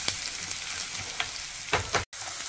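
Chopped garlic and shallots fry in hot oil for a sadya-style kalan, making a constant, close hissing sizzle with a few brief louder bursts of crackle and no voices.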